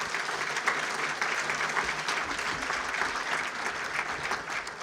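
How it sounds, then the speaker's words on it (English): A large audience applauds a speaker after a cybersecurity talk at a regional event, steady crowd clapping throughout, fairly distant and even in level. "Give him another round of applause."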